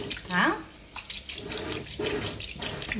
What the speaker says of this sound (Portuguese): Vamos abrir a torneira e vamos lavar, tá?